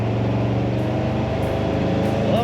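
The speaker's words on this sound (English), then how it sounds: "Love that throaty exhaust sound." A 1968 Ford Galaxie 500 two-door hardtop pulls away under power, its throaty exhaust giving a steady, loud, low rumble that holds for a couple of seconds, with a slight rise in pitch near the end.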